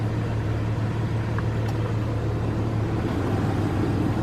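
A 2000 Jeep Grand Cherokee Laredo with about 159,680 miles sits running, giving a steady, even low engine hum up close, with no voices over it.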